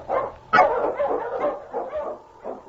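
Husky lead dog King barks and yips in a short, excited run of close, loud calls, with a whimpering edge, heard through a slightly muffled, worn old-radio sound.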